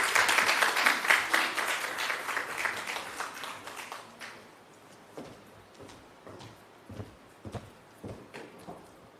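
Audience applauding after a presentation at a health research conference, dense clapping strongest at the start and thinning into scattered individual claps.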